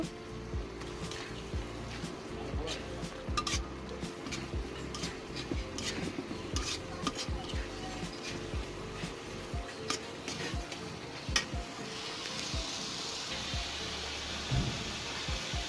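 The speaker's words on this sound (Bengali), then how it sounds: "এটাকে এখন ভালো করে কষিয়ে নেব।" Chicken curry being stir-fried in a pan with chili powder, a steady soft sizzle broken by repeated scraping strokes of a spatula, close and moderately quiet, with no talking.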